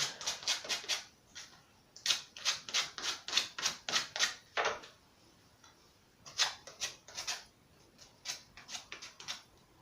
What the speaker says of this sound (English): So I'll just sand the edges off then.